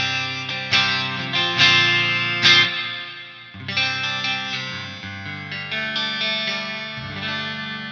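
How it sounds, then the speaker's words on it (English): Peavey 6505MH amp on its clean channel with reverb turned up to 10, a guitar playing ringing chords and notes, each strum followed by a long shimmering reverb tail, moderately loud with no voices. "Now let's hear the clean channel with a little bit of reverb."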